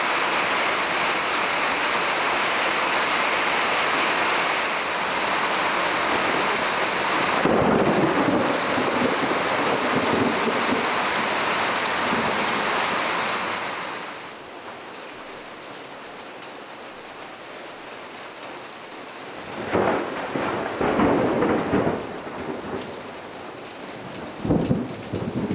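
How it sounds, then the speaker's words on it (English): Heavy rain roars steadily with rolling thunder, heard from inside a gutted 1984 mobile home, then drops off sharply to a quieter patter, where louder bursts of rumbling break in near the end. "we'll wait until it stops raining."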